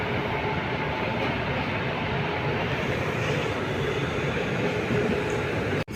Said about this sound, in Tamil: ட்ரெயின் பார்த்தீங்கன்னா கிளம்பிருக்கு.